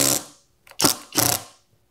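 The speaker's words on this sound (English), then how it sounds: "I'm gonna drive some drywall screws first." A SKIL PWRCore 20V impact driver in low mode drives 1 5/8-inch drywall screws in three short, loud, close rattling hammer bursts with brief gaps between them.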